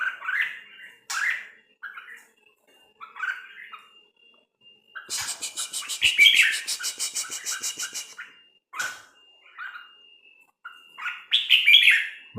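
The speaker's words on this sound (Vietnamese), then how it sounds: "Con này là chim muồi nhá" A decoy junglefowl calls close by in repeated short chirps and clucks, with a denser burst of squawking in the middle, separated by brief quiet gaps.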